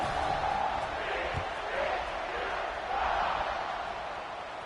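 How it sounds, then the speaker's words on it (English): Stadium crowd in a college football video game buzzing after a score before a kickoff, a dense continuous roar of many voices swelling and easing slightly throughout. "this crowd is buzzing after that last score."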